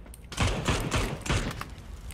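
Gunfire in the video game PUBG comes as a rapid, dense burst of shots in several clusters, loud and close, with no talk over it.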